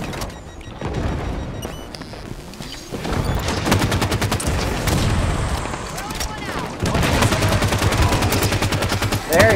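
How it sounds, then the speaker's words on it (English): Needler gunfire in Halo 5 Firefight on Raid on Apex 7 rattles in rapid, sustained volleys. Heavier booms and other battle noise mix in, loud and continuous throughout, with a voice talking over parts of it. "He has a needler. He's firing at the Prometheus instead of..."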